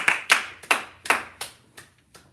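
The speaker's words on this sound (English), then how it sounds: "Clap it up, clap it up." Several people clapping in short, uneven bursts, about six or seven separate claps spread over a couple of seconds, fairly close and fading toward the end, at a community gathering at Hub 13 in Trenton, New Jersey.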